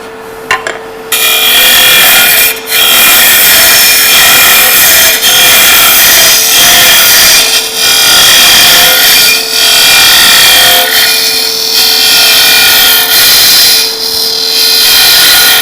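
A lathe turning a firm maple piece, the tool cutting with a loud, continuous harsh roar broken by short pauses and scraping bursts, close and dominant throughout.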